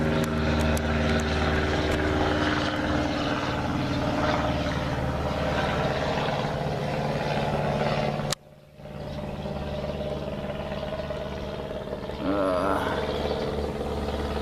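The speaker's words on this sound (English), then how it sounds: "There's an airplane overhead." A propeller airplane passes overhead outdoors near a house, its steady broad engine drone loud and continuous for most of the time, briefly cut off, then resuming more faintly as it moves away.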